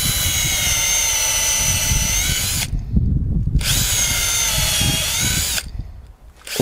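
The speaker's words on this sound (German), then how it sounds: "im Anschluss bohren wir in der markierten Stelle 4 Bohrungen" A loud power drill boring holes in wood whines steadily at high speed, cuts out briefly, runs again, then stops, with a low mechanical rumble underneath.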